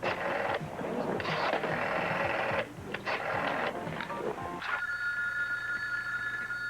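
A telephone rings in a 1982 soap-opera room scene, its steady electronic warble entering near the end after a stretch of busy background noise and clatter, close and clear.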